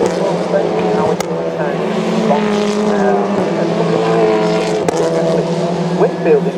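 TCR touring race cars running through turns 1 and 2 at Oulton Park's Lodge Corner: steady engine drone with shifting pitch as the cars pass, heard under continuous commentary.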